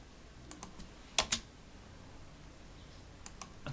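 Computer keyboard typing in scattered clusters of sharp, close clicks, a couple of them louder, separated by quiet pauses.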